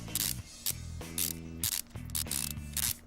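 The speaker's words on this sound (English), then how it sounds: "Put some more bolts in." Bolts being fastened on a car engine in Car Mechanic Simulator 2015, heard as repeated ratcheting bursts of about half a second separated by brief gaps, with mechanical clicking between them, close and without talk.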